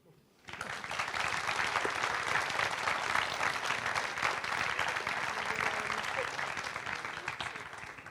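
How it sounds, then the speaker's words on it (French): At an awards ceremony, an audience bursts into sustained applause after a brief quiet moment, a dense, even wash of many hands clapping that stays steady throughout. "Et votez pour eux et applaudissez-les."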